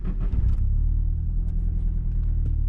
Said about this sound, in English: And starts up and idles a lot better than what it did before the tune.